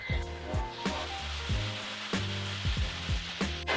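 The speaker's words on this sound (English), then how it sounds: "Now I'm going to deglaze with about 2 tablespoons of white wine." White wine sizzling and hissing in a hot pan as it deglazes sautéed mushrooms, a loud continuous fizz close by under background music.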